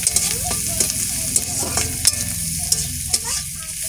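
Panch phoron spices with dried and green chillies and garlic crackling in hot oil: a busy, close sizzle scattered with sharp pops and spits.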